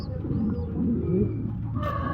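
Pigeon cooing close by in a loft, low soft rolling coos over a muffled background, with a brief faint sound near the end.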